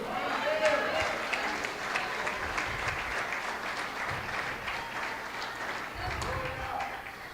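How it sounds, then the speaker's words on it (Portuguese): A congregation applauds God in a Portuguese-language church service, with sustained crowd clapping at a moderate distance, a few louder bursts, and talking voices mixed in over the clapping. "Você pode aplaudir a Deus?"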